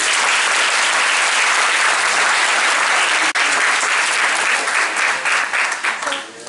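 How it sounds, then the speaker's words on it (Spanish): Sustained, dense applause from a church congregation at a Holy Thursday Mass, honoring the priest, steady and loud before thinning out near the end. "Un fuerte aplauso para el Padre."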